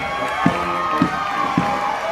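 Crowd in the stands at a youth sports games cheering for a regional team of athletes as they are introduced: a steady, roaring murmur broken by regular thumps about every half second, like rhythmic clapping or stomping.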